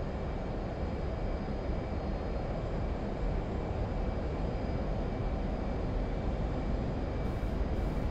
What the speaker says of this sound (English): Full afterburner.